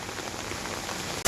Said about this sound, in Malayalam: മഴയുടെ ശക്തി കൂടി.